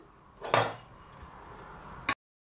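Feta cheese and tomatoes with a drop of oil and pepper mixed in a baking tray before going into the oven, giving two sharp clinks of a utensil against the dish with a soft scraping stir between them.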